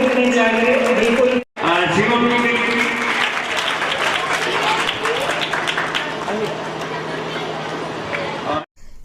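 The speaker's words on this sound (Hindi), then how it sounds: "तालियों की गड़गड़ाहट नहीं रुकनी चाहिए, बिल्कुल।" An outdoor village crowd at a Babasaheb Ambedkar Jayanti celebration claps and cheers, with sustained applause and chatter filling the space, broken by two abrupt cuts near the start and end, and voices mixed in.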